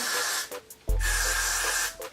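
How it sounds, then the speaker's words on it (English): Got To Be hair gel spray misted onto the hairline during a lace front wig application, heard as two steady hissing bursts with a short gap between them and a low thump at the start of the second burst. "So I'm just gonna spray this on my hairline, just right here"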